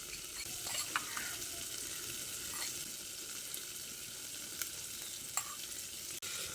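Gram flour (besan) fries in a pan with a steady, soft sizzle and occasional scrapes of a spoon stirring it, fairly close and continuous, with no talking.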